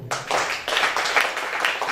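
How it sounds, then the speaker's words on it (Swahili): Church sermon audience clapping hands: a dense, close burst of many overlapping claps that starts abruptly and keeps going with small pulses of louder clapping. "Makofi nipigeni mazuri kidogo."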